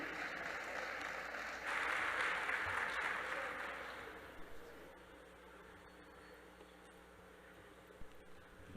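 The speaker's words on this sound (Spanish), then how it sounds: "Le damos un fuerte aplauso." An audience at a Eucharistic congress applauds, the clapping swelling for a few seconds and then thinning to a quiet, roomy hush with scattered claps.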